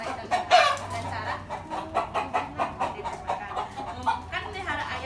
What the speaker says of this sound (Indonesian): Sekarang kan ini ada ayam.